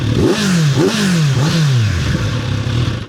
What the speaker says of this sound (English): Let's have a listen from the pipe. Nice big chrome pipe.